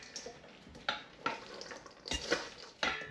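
Caesar salad with croutons is tossed in a bowl: a handful of soft, crunchy rustling strokes come at uneven intervals, close and quiet, with no voices.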